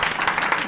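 An audience at a wearable art fashion show in a gallery claps, a steady wash of applause heard briefly from a moderate distance.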